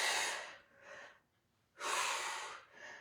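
Heavy, breathy exhalations from a person holding a hollow-body position in an upper-body and abs workout, two loud breaths separated by a quiet pause, close and alone without talk.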